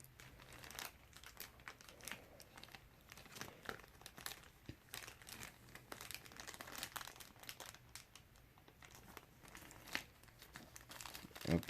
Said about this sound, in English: let's open up this little bag and see what we got on this guy